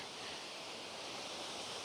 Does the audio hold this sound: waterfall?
yes